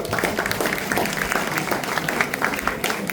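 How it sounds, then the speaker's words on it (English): An audience at a Matariki celebration held by a charity trust breaks into steady, dense applause, many hands clapping continuously and evenly throughout. "I would like everyone to give them a round of applause."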